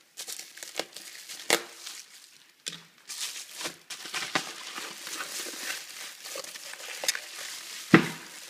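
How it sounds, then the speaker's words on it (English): Packing tape on a cardboard box holding a Tomei Expreme exhaust manifold is cut and pulled loose, giving quiet scattered crinkles, rips and scrapes, with a few sharper tearing snaps, close by and faint. "Just gonna have to cut the tape here."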